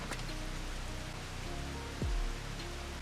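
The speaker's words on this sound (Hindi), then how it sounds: "बारिश हो रही है, क्या इससे उनकी गंध मिट जाएगी?" Steady rain falls in an anime scene, a dense, even hiss that holds throughout, with a brief low thud near the end.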